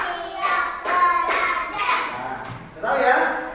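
Children play a tepuk rhythmic clapping game in an Indonesian classroom, clustered bursts of hand claps in short patterns with children's voices chanting between and over them.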